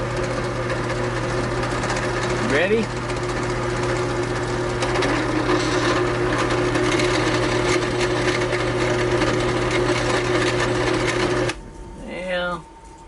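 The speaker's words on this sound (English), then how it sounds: "let's drill a hole for the peg," Drill boring a peg hole for a coat peg into a walnut shelf in a small home workshop, a steady loud whirring motor drone lasting about eleven seconds before cutting off, followed by a brief spin-down; a voice speaks briefly at the start.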